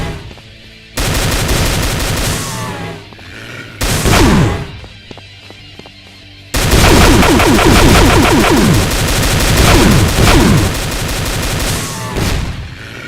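Gunfire from zombieman variants in a modded Doom game: loud bursts of automatic and single shots, some short and some sustained, with brief gaps of quieter ambience between volleys.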